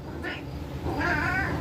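A cat meows twice, a short mew and then a longer, wavering caterwaul. Both are close and clear over a constant low background rumble.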